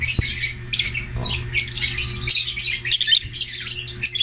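A bronze fallow parrot hen calls with repeated bright squawks and chirps, fairly close and loud, in a steady run of overlapping calls with no talking.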